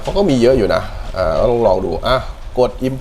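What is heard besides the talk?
None of the usual background noises is heard.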